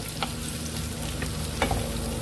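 Pumpkin fries with onion in a pot, a steady sizzle with stirring scrapes and a few sharp clicks of the spoon against the pot.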